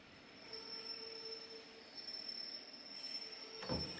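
A train pulling into a station platform, with a long thin wheel squeal over low rumbling and a brief heavier clunk near the end, moderately distant, with no voices.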